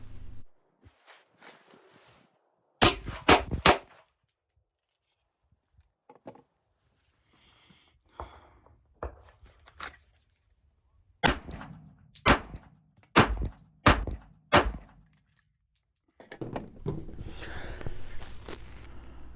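A Glock 34 handgun fires in a string of loud, sharp outdoor shots, first a quick cluster of three, then scattered single shots and a rapid run of about five, with rustling and footsteps between.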